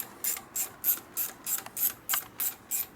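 A ratchet tightens parts on a 1972 Harley FLH 98ci shovelhead stroker motor, clicking in about nine evenly spaced, crisp bursts close to the microphone.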